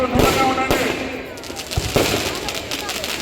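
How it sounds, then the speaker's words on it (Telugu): Firecrackers explode at a Dussehra celebration in Sanath Nagar, a few sharp loud bangs and crackles in irregular succession with a crowd murmuring in the background. "బాంబులు చెప్పి అవి ఎక్కడ పడతాయో మనకు కూడా తెలియదు"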